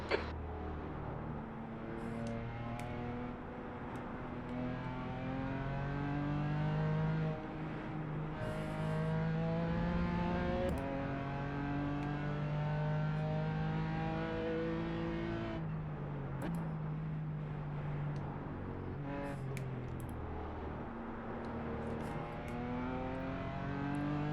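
Production race car engines drone and rev in the iRacing simulator at a rain-soaked Imola, with a continuous buzzing engine note rising and falling through gear changes and other cars audible nearby, with no talking.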